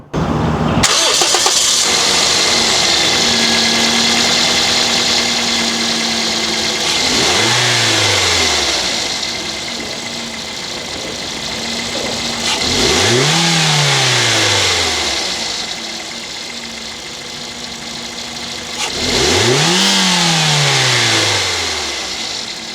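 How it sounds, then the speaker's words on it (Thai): A Toyota Corolla Altis 1.6 E running on CNG starts and idles, then revs up sharply three times with falling whines as it settles back, loud and close. "มาฟังเสียงเครื่องยนต์กัน"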